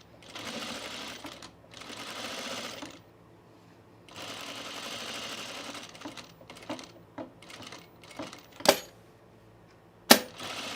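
A sewing machine runs in several steady bursts while finishing the last stitches of a sleeveless top, close by, followed by light handling clicks and two sharp knocks near the end.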